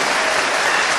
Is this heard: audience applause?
yes